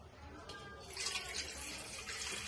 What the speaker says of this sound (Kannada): ಮೊದಲಿಗೆ 2 ಗ್ಲಾಸ್ ನೀರು ಹಾಕ್ತಾ ಇದ್ದೀನಿ.